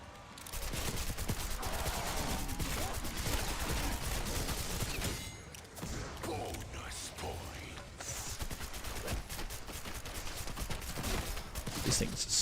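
Sustained assault rifle fire from a GPR-style AR in Black Ops 6 Zombies, dense rapid bursts running almost continuously, loud and close, with a short lull midway before the shooting resumes.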